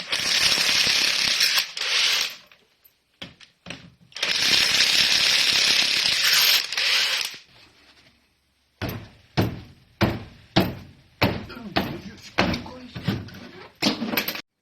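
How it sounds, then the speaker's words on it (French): Removing a wheel on a Peugeot 206 with a ratchet tool, two long loud bursts of rapid clattering, then a quiet gap with a few knocks, followed by a run of short repeated ratcheting strokes. "Donc là on va démonter la roue."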